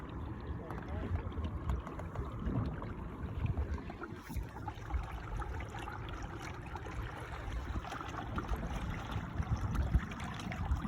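A trolling motor pushes a kayak along on open water, a low continuous churning rumble mixed with water wash and wind buffeting the microphone, while voices talk over it.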